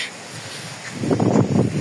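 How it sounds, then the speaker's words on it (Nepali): A gust of wind rumbles across the microphone, building up after a quieter moment and buffeting low and loud. "सरर सरर हावा चल्यो हेर्नुहोस्"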